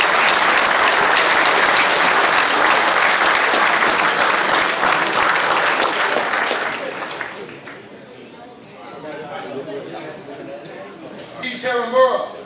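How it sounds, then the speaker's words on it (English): An audience at a middle school football camp claps for the team, loud sustained applause for about seven seconds that fades out, followed by faint chatter and an announcer's voice. "Let's give them a round of applause."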